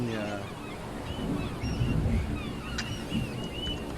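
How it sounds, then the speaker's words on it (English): Several video game geese honk repeatedly over a whooshing, wind-like background, their calls overlapping at moderate volume. "Those birds are very loud."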